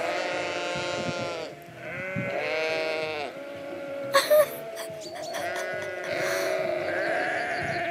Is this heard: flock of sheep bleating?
yes